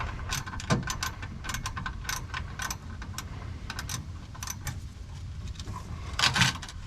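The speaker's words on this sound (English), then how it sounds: "My short 1/4-inch ratchet with the 8mm short socket fits, so I'm just gonna loosen them up." A short 1/4-inch ratchet with an 8mm socket loosens bolts on a Lightning intercooler pump, giving rapid bursts of close, dry ratcheting clicks separated by brief pauses, with occasional louder knocks of metal.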